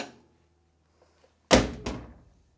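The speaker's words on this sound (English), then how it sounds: "So now when I close the door," A classic Porsche 911 door with a freshly rebuilt and adjusted striker is closed, giving one solid thunk followed by a second latching clunk, close and alone.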